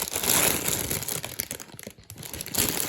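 A plastic bag holding about a kilogram of salad leaves crinkles and rustles steadily up close, with busy crackling texture throughout and no talking.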